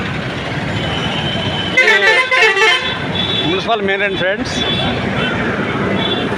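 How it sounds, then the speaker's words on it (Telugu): Large lorries rolling into town traffic on a congested street, with a horn tooting amid steady road noise while someone talks over it nearby. "చూడొచ్చు ఇక్కడ పెద్ద పెద్ద లారీలు టౌన్లోకి వస్తున్నాయి"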